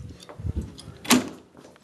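An elevator door at a community care center in Highland, Indiana slides and bumps open with a short clunk, heard close after a few soft low knocks and shuffles, then quiet room sound.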